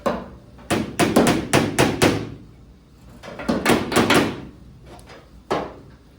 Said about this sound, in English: just a couple little whack-a-doos with the hammer here